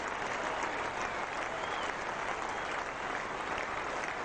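A large cricket crowd at Old Trafford applauds Jacques Kallis's Test century against England, a steady, dense wash of clapping sustained throughout at a fairly even level.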